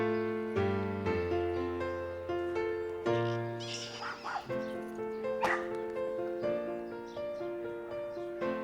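Dogs in the kennels of an animal shelter yip, whimper and bark over and over, several voices overlapping in a fairly quiet, echoing space.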